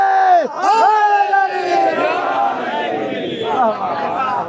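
A large crowd at a Shia religious gathering in Jhang district roars a slogan together in one loud, sustained unison shout that rises and holds, near and full, with no separate speech over it.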